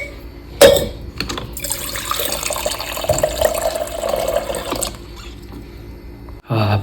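Water pours steadily into a household overhead tank, a continuous splashing rush with a few sharp knocks at the start and end, close by and with no talking.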